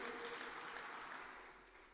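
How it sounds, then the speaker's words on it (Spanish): Applause from a church congregation during worship, a soft, continuous wash of clapping heard at a distance and fading slightly toward the end. "Vamos a darle fuerte ese aplauso."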